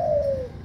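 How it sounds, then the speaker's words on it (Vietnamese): A spotted dove gives a single short, close coo, a smooth low tone that slides gently downward, with another coo just starting at the end. "quý anh chị em đam mê chim cu gáy"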